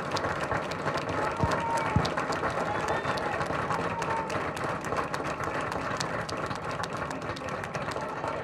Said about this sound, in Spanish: pido un aplauso